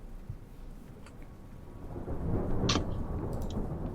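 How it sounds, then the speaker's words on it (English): A thunderstorm plays as tabletop game ambience, with steady rain hiss and a low rumble of thunder swelling midway, plus a few sharper crackles, no voices. "It's a thunderstorm."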